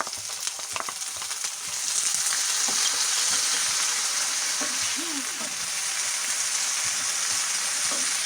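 Diced potatoes and onion frying in a few tablespoons of hot oil in a pan for an easy breakfast dish, a steady close sizzle with occasional stirring clatter, no talking.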